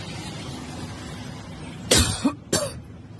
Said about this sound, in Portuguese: A pessoa que gravou, inclusive, tosse no meio do vídeo